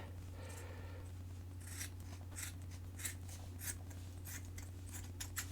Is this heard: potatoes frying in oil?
no